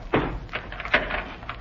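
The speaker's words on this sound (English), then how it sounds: "Ivan, open the door." A door opens in an old radio drama, with a heavy clunk and a few scraping, rattling knocks over about a second and a half, fairly close and with no voices over it.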